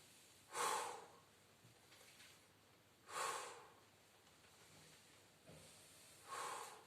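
Three hard breathy exhalations during a floor-based gentle gym exercise, each a short forceful blow spaced a few seconds apart, close and fairly soft, with faint inhales between.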